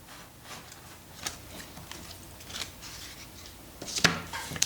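Paper being cut to size with scissors for a dolls house kitchen, a run of soft, close snips and rustles that grows a little sharper and louder toward the end, with no talk.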